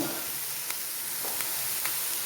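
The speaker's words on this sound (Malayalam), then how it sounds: "ഇനി ഇതൊന്ന് പതുക്കെ ഇളക്കി നോക്കാം" Pumpkin leaves fry in a pan for a leafy-green stir-fry (thoran), stirred with a fork. A steady close sizzle and hiss runs throughout, broken by a few light scraping clicks.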